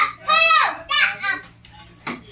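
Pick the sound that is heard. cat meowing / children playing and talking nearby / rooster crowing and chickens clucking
children playing and talking nearby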